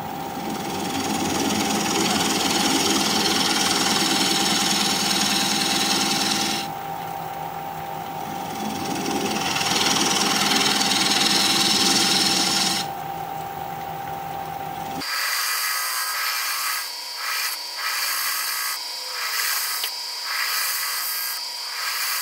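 A wood lathe turns a thin wooden slab while a recess tool cuts into it, producing a steady, loud grinding and scraping drone that drops out briefly in places and ends with a quieter stretch of intermittent ticking and whirring.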